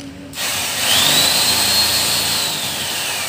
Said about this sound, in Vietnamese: một khoan tay kiểu này còn hoạt động bình thường nha anh em